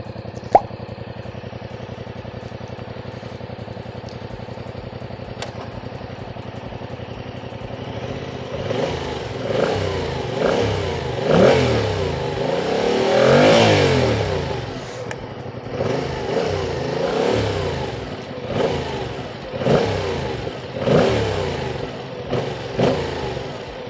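A 2025 Yamaha MT-07 with the clutchless Y-AMT automated gearbox, in first gear, starts up and settles into idle, then revs in a series of rising and falling blips, close and fairly loud, with no talking.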